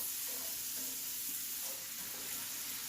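Shrimp cook in melted butter in a pan with a soft, steady sizzle and light crackle that holds at a low, even level throughout.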